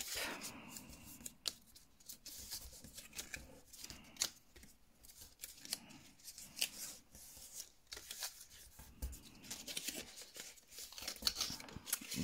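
Paper being creased and folded into a small box, giving close, faint crinkles, rustles and sharp pressing snaps in irregular bursts.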